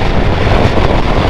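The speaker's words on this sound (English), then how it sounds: "It is windy today" Heavy wind buffeting a helmet-mounted GoPro microphone while riding a motorcycle on a windy day, a loud, close, continuous low rumble and roar with no speech.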